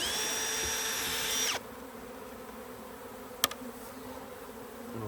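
A dense, high-pitched buzz of bees around a hive, heavy for the first second and a half, then cutting to a faint background hum with a sharp click midway.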